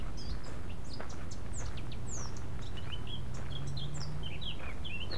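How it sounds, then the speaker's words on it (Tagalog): Several birds chirp and tweet in short, scattered calls over a steady outdoor background hum. "Huni ng ibon lang."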